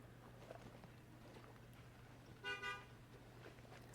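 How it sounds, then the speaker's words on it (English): Car horns honking outside, heard as a faint, distant double toot against a steady low hum, with no talking. "Sorry, people honking their horns outside."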